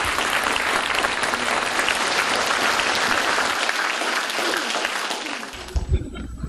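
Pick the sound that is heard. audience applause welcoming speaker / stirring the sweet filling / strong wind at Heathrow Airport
audience applause welcoming speaker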